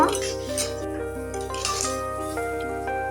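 Spoon scraping and clinking in a pan while stirring a potato and green pea curry mixture, steady rhythmic metallic strokes over a constant hum.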